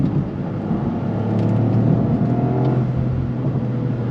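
Engine and exhaust of a 2025 Toyota GR Corolla with the 8-speed automatic while driving, a loud steady droning rumble that swells briefly mid-way, with no talking over it.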